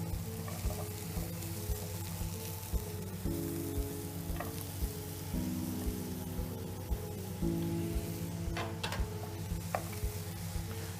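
Chopped swede and carrots sizzling steadily in a hot pan for a shepherd's pie, with a dense crackling hiss throughout and occasional scraping of a stirring utensil.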